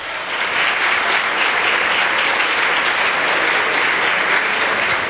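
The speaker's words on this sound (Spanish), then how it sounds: "Un aplauso para él, por favor." Steady applause from a seated audience at a justice panel in Guatemala, welcoming a judicial official among the panelists; dense, even clapping fills the whole stretch without voices on top.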